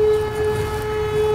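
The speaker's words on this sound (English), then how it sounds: "it's 12 o'clock on a Saturday, and that means 12 o'clock siren" A twelve o'clock noon civil defense siren sounds on a Saturday, a steady sustained wail holding one pitch throughout, loud and continuous over a low background rumble.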